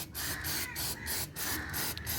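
Spray cleaner misted onto the front sprocket of a 2020 Bajaj Boxer X150 motorcycle, several short close hissing bursts in a quick rhythm with no talk.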